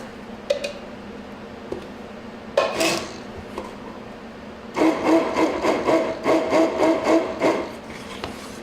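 A spoon stirring lemon curd in a metal pot, a few scattered clinks first, then a run of rhythmic scraping strokes against the pot, close and clear with no talking.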